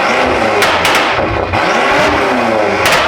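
BMW M5 with a boot mod burble tune, its engine revving loud and close with rough, crackling exhaust pops and sharp bursts breaking through the aggressive roar.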